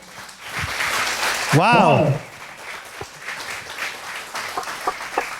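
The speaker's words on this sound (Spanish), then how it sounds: "Dele un aplauso al Señor." Church congregation applauding during a Spanish-language sermon, a broad wash of clapping for several seconds with a voiced exclamation rising above it, then fading into scattered claps and murmuring voices.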